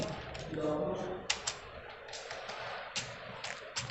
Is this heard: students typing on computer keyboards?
yes